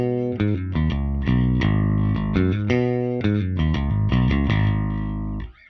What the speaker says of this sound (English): So here I'm using an emulation of an SVT head with an 8x10